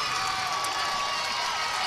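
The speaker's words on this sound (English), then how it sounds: "You can hear that Marshall bench, that crowd getting excited" A crowd and the Marshall bench cheer at a 2A boys basketball state championship game against Bigelow, a dense, loud roar of voices and shouts that holds steady throughout.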